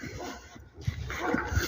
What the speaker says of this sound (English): barking at the fence